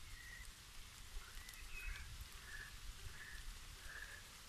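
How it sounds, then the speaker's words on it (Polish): Soft rain patters steadily on surfaces, while faint chirps repeat every second or so in the background. "Już naprawdę mam dosyć tego deszczu"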